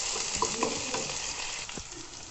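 Ginger, garlic and ground spices sizzle in an oiled pan while being stirred, a close steady frying hiss broken by a few scraping strokes of a spatula.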